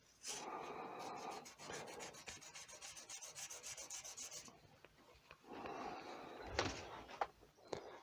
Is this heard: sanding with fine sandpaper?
yes